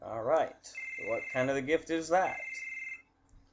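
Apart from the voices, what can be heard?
telephone ringing in Final Fantasy VII video game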